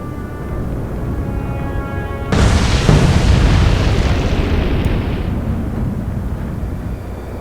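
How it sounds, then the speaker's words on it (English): Torpedo hits exploding against ships in Atlantic Fleet, a naval video game: a heavy boom bursts in suddenly after a low rumble, then a long roaring blast that slowly fades, loud and close with no talk. "Torpedoes have hit"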